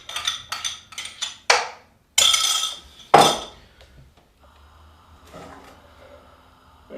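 Metallic clanks and scrapes of a frying pan being handled, with a few sharp knocks, then a quieter low hum as the pan settles on the stove.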